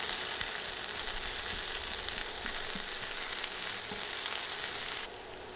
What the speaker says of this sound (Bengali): নেড়ে নেড়ে পেঁয়াজ ও রসুন ভেজে নিচ্ছি।